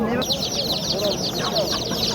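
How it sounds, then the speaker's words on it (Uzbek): Roosters at a Namangan bazaar poultry market cluck and call in a busy chorus of overlapping bird sounds, loud and close, with market chatter behind. "xo'roz ekan."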